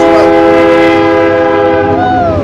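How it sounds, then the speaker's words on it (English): A train passes close by, a loud sustained rumble with a tonal horn sounding over it, continuous throughout. "There's a train going by."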